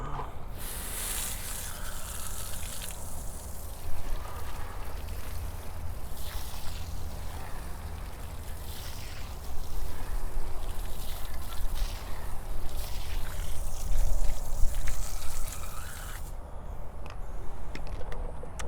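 Water spray rinsing tire cleaner off a car tire during a tire coating job, a steady broad hiss running continuously and growing somewhat louder midway before easing near the end.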